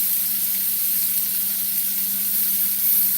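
Rib roast searing in a hot pan, a steady loud broadband sizzle and hiss that holds evenly throughout, close up with no voices.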